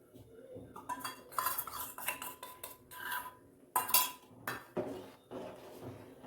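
Rice flour mixture being stirred into a pot of sweet payesh with a metal spoon, a series of close, irregular scrapes and clinks against the pot.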